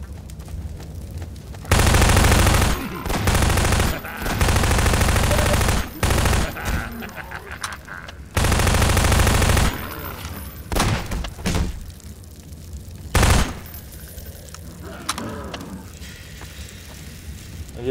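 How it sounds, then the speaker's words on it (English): Automatic gunfire in Half-Life 2 as an enemy is shot, several loud, close bursts of rapid shots separated by short pauses, with scattered single shots and thuds near the end. "I still shoot him."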